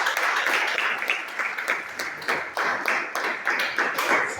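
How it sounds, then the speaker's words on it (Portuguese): A church congregation applauds, steady dense clapping from many hands filling the room at moderate loudness. "Então vamos dar um forte aplauso para o Senhor."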